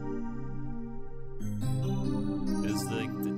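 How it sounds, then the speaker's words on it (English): Crystal EP electric piano preset from FM Tons: a soft, bell-like sustained chord that shifts to a brighter second chord with a shimmering top, quiet and alone, with no talking. "It's called Crystal EP,"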